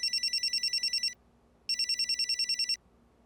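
A telephone rings with a call to the boss, two close electronic trills of rapid pulsing beeps separated by a short pause, no voices.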